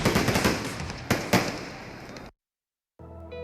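A dense rapid crackle of fireworks with a few louder bangs sounds in a radio advertisement for a fireworks show, cutting off abruptly into silence before a faint tone returns.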